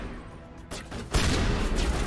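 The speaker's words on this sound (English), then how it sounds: "Okay, shotgun definitely acts like a shotgun." A shotgun fires in the video game Mass Effect Legendary Edition, a couple of loud, close blasts amid dense combat noise.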